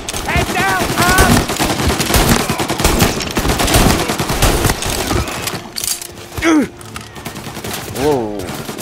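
Bursts of gunfire from the Mafia remake video game, a dense loud stretch of rapid automatic shots and clatter, then sparser sporadic shots with game sound effects and voices in between.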